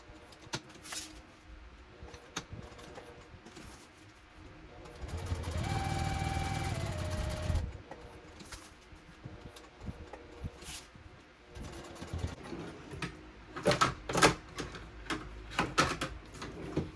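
A sewing machine runs in one steady mechanical whir for a couple of seconds while stitching around the boxed corner of a tote bag. Fabric handling and small clicks can be heard before and after it, with no speech.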